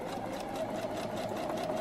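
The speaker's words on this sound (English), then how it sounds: "We're just going to continue sewing so that the hem is lining up with the edge of our presser foot." A sewing machine stitches elastic onto bikini fabric, a steady close mechanical whir with a fast even rhythm running throughout and no voices.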